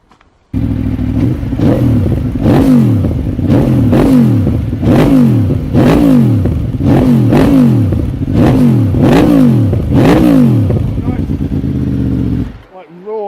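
An Aprilia Tuono motorcycle engine fires up loudly and is blipped through a rhythmic series of about ten sharp revs that rise and fall, then cuts off abruptly, with voices talking over it.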